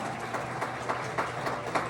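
Wedding guests clap in a hall as the ceremony opens, a soft, steady wash of applause at moderate distance with a few sharper claps standing out.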